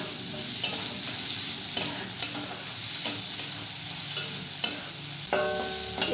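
Chopped onion, grated ginger and garlic fry in hot oil in a pan, a constant close sizzle punctuated by regular spatula scrapes and clicks about every second, with a brief tonal ring near the end and no talking.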